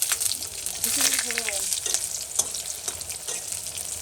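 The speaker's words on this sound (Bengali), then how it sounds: "এই যে তেল গরম হয়ে গেছে আমি তেজপাতা শুকনো লঙ্কা ফোড়নে" Bay leaves and dried chillies crackle and sizzle in hot oil, a loud, close, continuous fry with occasional stirring clinks; a brief voice-like tone sounds partway through.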